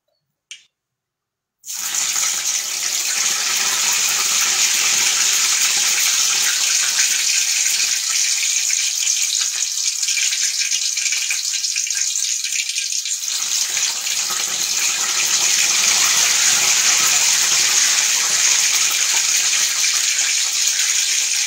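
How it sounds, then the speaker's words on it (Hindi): Purple yam frying in oil gives a steady, loud, hissing sizzle that runs on without a break after a short silent start; no talking over it. "जो पर्पल याम है उसे भी फ्राई कर लेंगे।"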